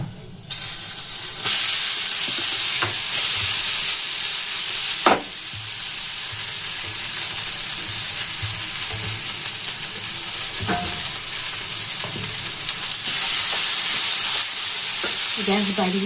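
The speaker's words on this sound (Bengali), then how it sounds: "গ্যাস বাড়িয়ে একটুখানি ভেজে নেব।" Mango pieces fry for homemade jelly in a pan over raised gas heat, giving a continuous close sizzle and hiss, punctuated by occasional scraping knocks as a spoon stirs them.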